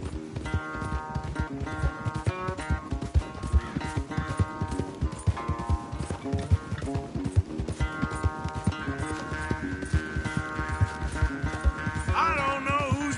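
Horse galloping in a race in a video game, fast steady hoofbeats pounding throughout, fairly loud under a melodic game music score.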